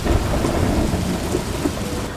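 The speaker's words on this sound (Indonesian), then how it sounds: "Lengkap dengan genderang petir yang menggema, hujan pertama jatuh setetes, lalu dua, dan tak lama kemudian mengguyur bumi dengan deras." Thunder rumbles beneath a heavy downpour of rain, a dense, steady roar of pouring water that stays loud and constant throughout, with no voices.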